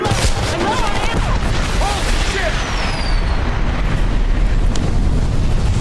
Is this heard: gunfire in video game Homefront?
yes